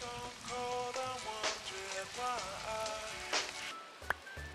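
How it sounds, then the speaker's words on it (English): Steady rain patters in Minecraft, a soft continuous hiss running beneath a voice, with a few sharper clicks near the end. "It rains every day in my world"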